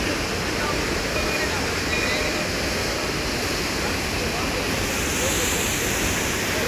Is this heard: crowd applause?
no